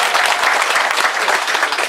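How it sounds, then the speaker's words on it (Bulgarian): A crowd at a church service for children in Karadzhovo bursts into steady, dense applause, loud and close, with many hands clapping continuously throughout. "да ги пляскаме"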